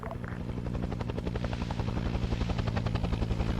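Helicopter from the Arma 3 Vietnam-era mission, its rotor thudding in a steady rapid pulse with a low engine drone, loud and close throughout.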